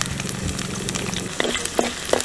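Green chillies and kudampuli dropped into a hot pan for a pallathi fish curry, producing a close continuous sizzle with a few sharp clicks and stirring scrapes toward the end, no talking.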